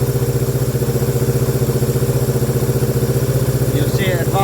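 Motorcycle engine running just after its ignition points are set, a close, steady rapid idle chug with an even mechanical beat and faint ticking, holding level throughout.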